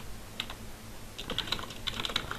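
Quiet, scattered keystrokes tapped on a computer keyboard, a few light clicks, then a quicker burst of typing at close range.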